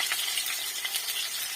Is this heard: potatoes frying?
yes